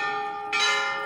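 Temple bells ring at the Golu Devta shrine, sustained metallic tones layered and ringing on, with a fresh louder strike about halfway through that swells the bright shimmer.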